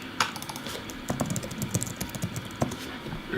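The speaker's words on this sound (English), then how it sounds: "Excuse the sound of typing." Close, fast typing on a computer keyboard, a steady run of light plastic key clicks with a few sharper strokes, heard alone.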